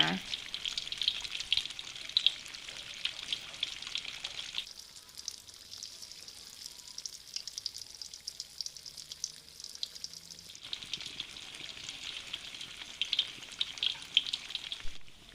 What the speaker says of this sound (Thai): ช่วงที่เราทอดกล้วยอยู่นะคะ